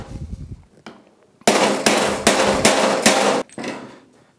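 Sockets hammered to drive seals out of a Mercury 40 hp outboard: a few light taps, then a series of loud, sharp metallic blows in quick succession, close up, fading after the last strike.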